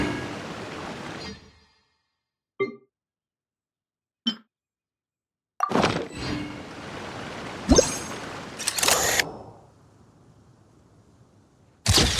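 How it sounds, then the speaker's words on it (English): Short clicks and bright chimes from an in-game camera snapping a picture in Genshin Impact, a few sharp isolated ticks followed by louder shimmering whooshes and bursts, with no voices. "Let's get that picture taken."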